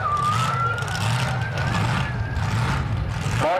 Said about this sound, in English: You can really hear that supercharger on that truck.